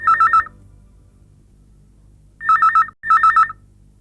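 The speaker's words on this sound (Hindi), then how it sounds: "और फिर अचानक फोन की घंटी बज उठी।" A telephone rings in short electronic trilling bursts: one ring, a pause, then two more rings close together, loud and clear over a quiet background, with no one speaking.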